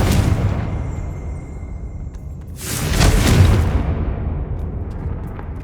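A Confringo blasting spell in Hogwarts Legacy erupts with a loud, deep explosion swelling midway, its rumbling boom rolling out and fading away after a quieter lead-in.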